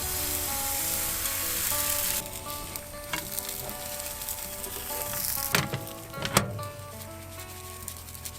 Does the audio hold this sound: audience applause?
no